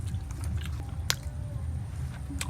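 Close chewing and biting while eating goat meat curry with potatoes, a thin home-style gravy cooked on a clay stove, with soft squishy mouth sounds and one sharper crunch, heard alone without talk.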